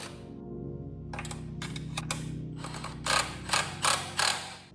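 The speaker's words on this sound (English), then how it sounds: "Just tighten everything up." A hand tool tightens bolts on a motorcycle accessory kit on a Svartpilen 401, making a low mechanical rumble followed by four sharp, evenly spaced ratcheting clicks close by.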